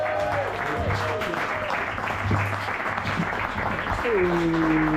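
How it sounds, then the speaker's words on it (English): Comedy club audience in Exeter, UK applauding a stand-up comedian, a steady wash of clapping throughout, with a voice talking over it. "Give it up for Sk8Wine"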